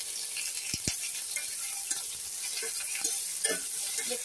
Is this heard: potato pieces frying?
yes